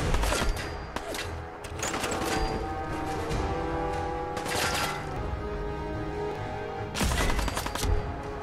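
Gunfire from shooting an enemy in Fallout 4 VR comes as repeated sharp cracks and bursts, loud and close, with clusters of shots separated by brief lulls.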